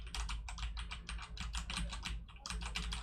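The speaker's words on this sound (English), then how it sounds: "the keyboard clicks will probably be around maybe a foot away from the mic while it's sitting on the table" Computer keyboard keys click rapidly and steadily while someone types on a table about a foot from a budget streaming microphone, with crisp, fairly close clicks and only a brief pause near the end.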